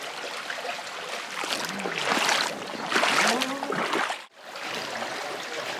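The Palancia river runs near its source in mountain country, a close, bright rush of flowing water that swells and gurgles unevenly and then cuts out briefly before the flow resumes.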